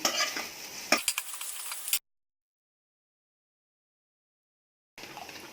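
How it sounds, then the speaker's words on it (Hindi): A ladle stirs a besan and yogurt mixture, giving quick wet scraping and clinking strokes for about two seconds. Silence follows, then faint stirring resumes near the end. "इधर बीच बीच में कड़छी चलाते जाएंगे।"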